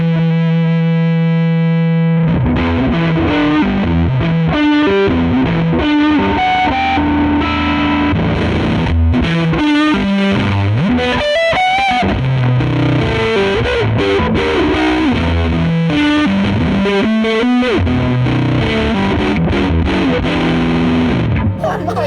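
A heavily distorted Jazzmaster electric guitar on its rhythm circuit, through a distortion pedal, plays busy, gritty riffs after a brief sustained chord, loud and close with effects throughout.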